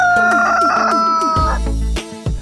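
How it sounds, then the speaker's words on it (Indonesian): A rooster crows in a video game, one loud, close, drawn-out synthetic cock-a-doodle-doo with a falling end, followed by brief clunky game sounds. "Rooster."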